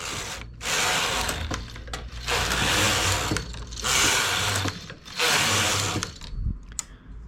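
Sewing machine stitching rows on a garment finish, four long loud bursts of fast whirring stitching separated by brief pauses, then a shorter burst and a click, close by with no speech.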